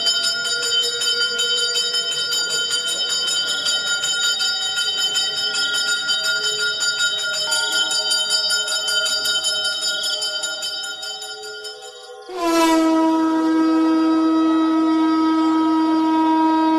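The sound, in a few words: temple bells ringing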